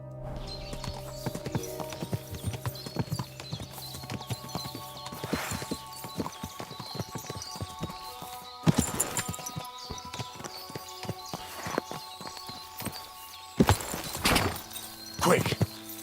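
Steady clip-clop of horse hooves at a quick pace with scattered thuds and a brief whinny in Kingdom Come: Deliverance II, game-like and fairly faint.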